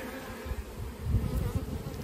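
Honey bees buzz steadily around a swarm trap outdoors, a dense low drone of many insects with a few louder swells as individuals fly near, and no talking.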